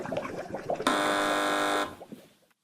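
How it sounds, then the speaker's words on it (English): A game show buzzer sounds once on a panel quiz, a loud, steady electronic tone lasting about a second, with faint studio murmur before and after. "Fingers on buzzers,"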